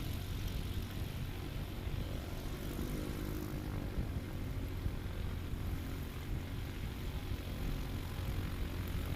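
A Legend Aircraft MOAC STOL plane taking off at full throttle at an airpark competition, a loud continuous propeller and engine drone holding steady, heard from a moderate distance.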